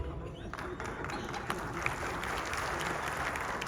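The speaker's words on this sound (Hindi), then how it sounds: "आप तालियां क्यों मार रहे हो यार" Steady clapping from a small group fills the space indoors, a dense continuous patter of hands with no clear pauses, heard alone at moderate loudness.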